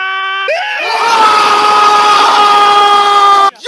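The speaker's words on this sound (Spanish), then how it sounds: "¿Alguna vez te han dado ganas de dar un grito primal?" A group of people let out a long, loud primal scream together. It starts from a sustained tone and swells into a harsh, raw shout that holds steady for about three seconds before cutting off.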